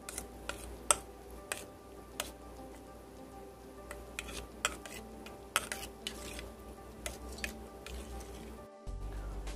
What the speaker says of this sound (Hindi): अब इसको थोड़ा सा मिक्स कर लेते हैं।